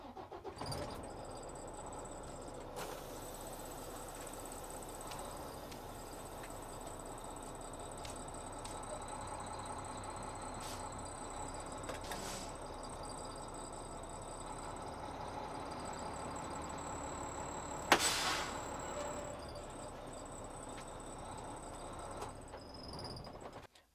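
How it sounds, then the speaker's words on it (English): A tractor truck's engine runs steadily throughout while the truck is moved back at a driving school, a constant low rumble with a few sharp clunks and one louder knock near the end, no talk. "Now we have moved the truck back."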